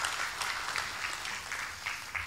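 An audience claps at a company gathering in Semarang, a dense, steady patter of many hands heard from a distance, with no speech on top.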